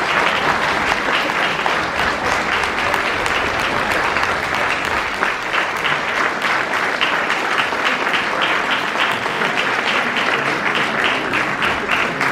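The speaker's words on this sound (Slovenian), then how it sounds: "En aplavz za spodbudo." Dense, steady audience applause fills a hall at a Karitas Rovte charity concert, many hands clapping at an even level from start to finish with no voices on top.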